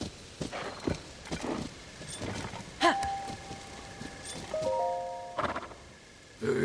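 Hooves of a giant white stallion in Zelda: Tears of the Kingdom, a few irregular clip-clop steps mid-distance among game ambience and soft tones, with no talk.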